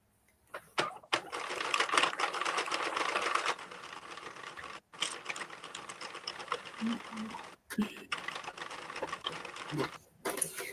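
A Sentro circular knitting machine is cranked in several bursts, giving a fast clicking, ratcheting clatter up close, broken by short pauses, with quiet talk between turns.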